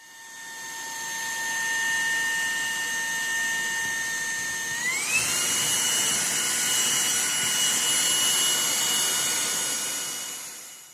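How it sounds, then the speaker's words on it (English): A vacuum cleaner running steadily close by while clearing loose static grass and ground cover from a 00 gauge model railway layout, its whine jumping suddenly to a higher pitch midway, loud and constant with no talk. "it's now time to give it a bit of a vacuum in to clear up"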